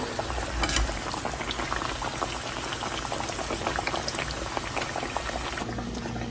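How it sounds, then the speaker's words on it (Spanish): A handmade masa gordita sizzles and bubbles in hot frying oil, a loud, dense, steady crackle running close and uninterrupted throughout. "aquí ya nos quedó una gordita hecha totalmente a mano y la vamos a llevar al aceite"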